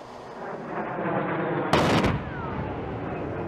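A burst of rapid gunfire from an F-35 fighter jet's gun erupts for about a third of a second, loud and harsh over a continuous background roar.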